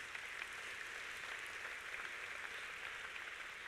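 A church audience at a youth conference homily applauding: steady, dense clapping from a crowd, fairly faint and even throughout with no voices over it.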